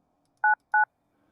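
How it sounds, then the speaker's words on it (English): A telephone keypad sounds two short, loud DTMF beeps, evenly spaced, against near silence. "If you know your party's extension, please dial it now or press 1 for our dial by"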